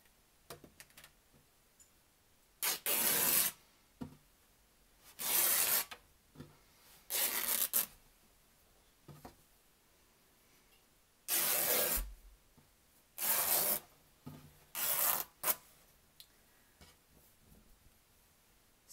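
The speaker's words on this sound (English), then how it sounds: "make my two snips for 18 inches and then tear vertically" Fabric being snipped and then torn by hand in several separate bursts, each a close, raspy rip lasting about a second, with quiet pauses between them and no talk.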